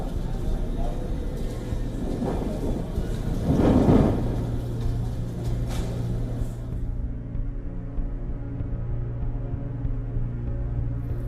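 Rain and wind from a massive dust storm striking India's national capital region before dawn, a loud steady roar with a heavier gust swelling midway before easing into a continuous downpour.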